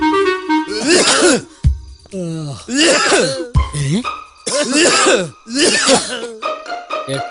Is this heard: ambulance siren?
no